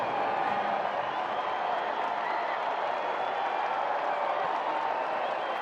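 A baseball crowd in the right-field stands during a Seattle Mariners at Chicago White Sox game cheers and applauds as a dense, steady roar that holds level throughout, with a broadcaster's voice faintly underneath.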